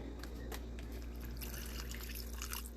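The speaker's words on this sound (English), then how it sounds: "I'm gonna add some pickle juice, and I'm adding about half of a cup, this much, and I'm gonna pour it in here." Pickle juice is poured into a bag of raw chicken breasts, a faint trickling splash that grows fuller partway through over a low room hum.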